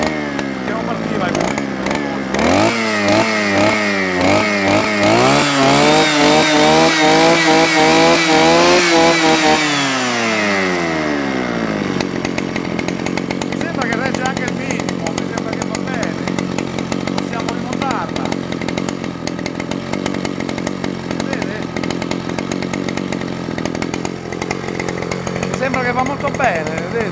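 A reassembled Oleo-Mac OM 260 chainsaw engine revs loudly up close, rising and falling before settling into a steady rough idle, with someone speaking over it.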